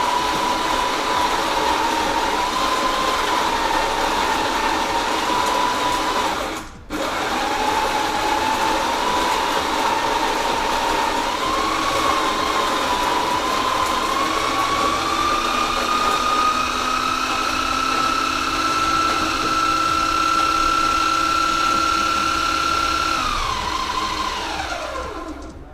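An Anita PL042 coffee grinder runs steadily with a whining motor hum that dips briefly, then climbs slightly in pitch as it works through the beans before winding down at the end.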